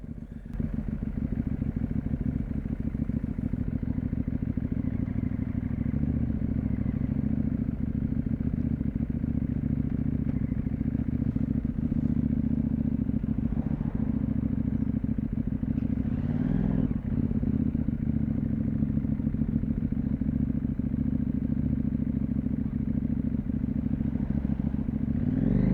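CFmoto 800MT motorcycle on a ride, its exhaust droning steadily and loud throughout, with a quickshifter, plus some wind and clatter riding over the engine note and no talking.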